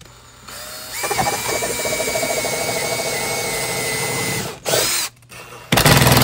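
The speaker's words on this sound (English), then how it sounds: "Just tightened up that set screw." A whirring power driver runs continuously while tightening a set screw on an outdoor hose reel mount, steady and close for several seconds before stopping, followed by short bursts of handling noise.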